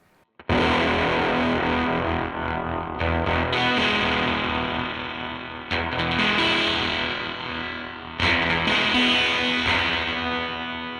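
Thick, heavily distorted electric guitar chords through a Death by Audio Octave Clang V2 octave fuzz pedal ring out loud and sustained, struck three times with a buzzy, fuzzy edge.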